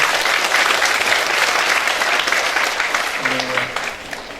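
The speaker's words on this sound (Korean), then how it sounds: "우리 교육감님께 큰 박수 한번 부탁드립니다" Hall audience at an education officials' meeting gives a superintendent a big round of applause, dense and steady, fading slightly toward the end as a brief voice comes in.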